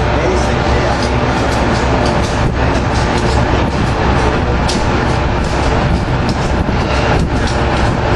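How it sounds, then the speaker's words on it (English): Amtrak Pennsylvanian train 43 led by AEM-7 electric locomotive 931 rolls past in a steady, loud, close rumble with rail noise throughout, while people talk over it. "got Pennsylvania train 43 coming in"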